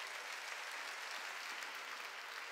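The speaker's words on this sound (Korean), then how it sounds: "깨달아서 박수 치라고요." A church congregation claps together during a worship service sermon, a steady dense wash of applause held at even, moderately faint level throughout with no voices over it.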